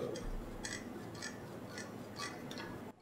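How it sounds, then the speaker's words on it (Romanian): An AOC GM510 gaming mouse being tested, with a handful of sharp, close clicks and short scroll-wheel ticks spaced through a quiet room. "Acum o să încerc cu click stânga-ul, click dreapta-ul, scroll sus-jos,"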